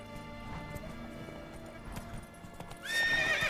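Roach, a horse in the video game The Witcher 3: Wild Hunt, gallops with rapid, quiet hoofbeat clip-clops, then lets out a loud, high whinny near the end.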